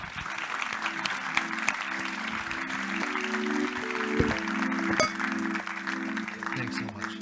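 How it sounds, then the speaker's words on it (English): An audience claps after a speech on artificial intelligence at a conference, steady applause rising and holding, joined by a sustained musical tone and a voice speaking over it. "I'll ask for a round of applause"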